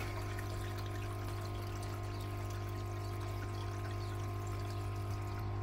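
Water drains steadily out of a garden pond filter drain, making a continuous pouring trickle with a constant hum beneath it, close and unbroken throughout.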